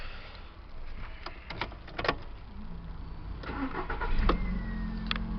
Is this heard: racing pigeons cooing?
no